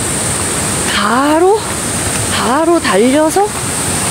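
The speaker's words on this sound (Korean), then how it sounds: "일곱 개의 폭포가 이렇게 연결되어 있는 유명한 계곡이에요" Rushing water from a valley of seven connected waterfalls roars as a steady, loud wash, while a person talks over it in short bursts.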